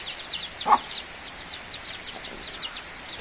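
Chicks peep rapidly and continuously at high pitch inside a basket with their mother hen, with a single low cluck from the hen near the start, all close and fairly loud.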